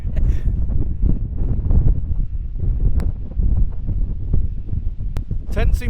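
Strong wind gusts buffet a tent pitched beside a rocky outcrop in severe stormy weather, a steady roaring rush that stays loud throughout, with brief flaps and rustles near the end.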